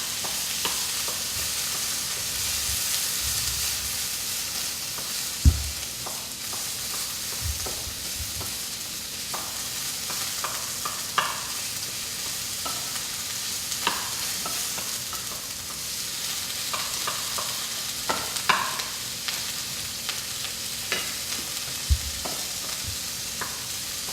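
Broccoli sautés in a hot pan with a steady sizzle, broken by occasional stirring knocks and scrapes of a utensil, close and moderately loud with no talking.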